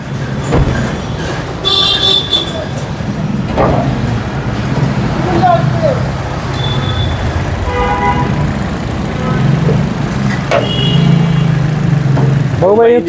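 A used Hyundai Accent Blue car engine idles with a steady low hum, while people talk over it nearby and occasional traffic horns toot in the background.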